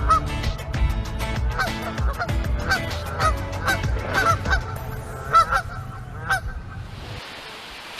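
Canada geese honk repeatedly and loudly up close, a dense overlapping chorus of nasal calls over several seconds that stops abruptly, leaving faint hiss.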